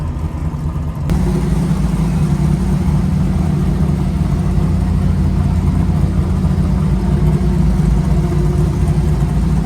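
A junkyard Jeep engine with new exhaust mufflers starts and settles into a steady, close idle, a continuous low rumble that lasts without break after the start.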